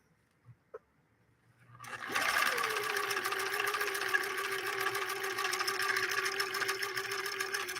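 A Viking Husqvarna 19E sewing machine starts after a couple of small clicks, then stitches continuously with a fast, even mechanical whir and rhythmic needle chatter, close and steady.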